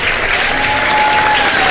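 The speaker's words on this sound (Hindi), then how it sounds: "तालियां बजा दीजिए जी।" A studio audience at a live Ramadan iftar television show claps loudly and steadily, a dense close wash of applause with no pauses.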